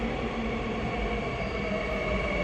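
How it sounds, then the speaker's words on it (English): A subway train pulls into a Korean metro station, its loud, steady rumble and rolling wheel noise filling the platform, with a faint squeal riding on top and no voices. "The subway is here now"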